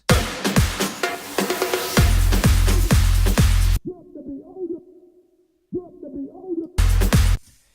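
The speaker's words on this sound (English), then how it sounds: "I just have the vocals that I have an auto filter on" A vocal line treated with an auto filter sweep that gradually opens up the highs, over punchy big room electronic dance music with brief near-silent gaps.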